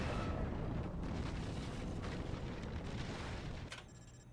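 Mortar explosions hitting a fort in the strategy game Forts: a continuous heavy rumble of booming blasts that stays loud and then drops off near the end.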